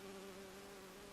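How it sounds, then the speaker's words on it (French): A bee buzzes steadily in the Bioshock Infinite video game, a close continuous drone with no talk. "Oh, une abeille. J'ai horreur de ça."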